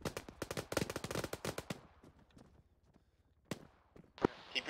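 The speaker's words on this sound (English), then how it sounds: "Keep your spacing because the machine gun, we're all gonna die." Machine gun fire in a rapid rhythmic burst of close, sharp shots, then a pause and a few more scattered cracks, with voices over a radio chatter layered around it.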